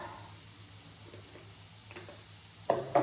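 Bitter gourd sizzles gently in a pan while cumin and other spice powders are stirred through it; soft frying hiss runs underneath, ending with a couple of louder utensil scrapes near the close.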